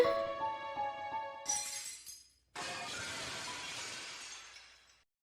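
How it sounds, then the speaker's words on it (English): Glass shatters in a visual novel game, a sharp crash followed by a bright spray of falling shards that rings out alone and fades over a few seconds, with a short stretch of faint tinkling before the break. "The sudden sound of breaking glass shocks me out of my reading."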